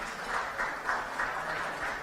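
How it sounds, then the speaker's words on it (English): A room full of people applauding at a Zionism talk, steady broadband clapping with soft rhythmic surges, moderately distant and fairly quiet, with no voices over it. "First of all, a round of applause."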